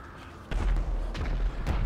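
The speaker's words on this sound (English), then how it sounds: "I hear explosions." Dull explosion booms in the GTA 5 video game, a low rumbling thud that starts abruptly and is followed by a couple more muffled blasts, with no talking.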